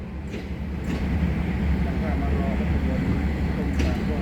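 Rapid train No. 169 from Bangkok to Yala pulls out of the station with a loud, steady low rumble of rolling wheels and carriages, close by, while someone talks over it.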